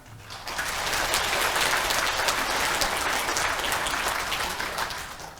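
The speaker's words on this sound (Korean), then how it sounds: "그분들을 위해서 우리의 마음을 담아서 박수를 좀 보내주시기 바랍니다" An audience in the National Assembly hall applauds at a veterans' rally, loud sustained clapping from a large crowd that swells quickly and holds for several seconds.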